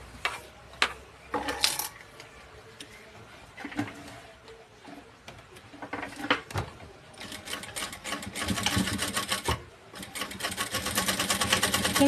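A sewing machine stitches down a folded-in fabric edge, starting with scattered clicks and short taps, then settling into a denser, steady whirring run through the second half, with no one talking.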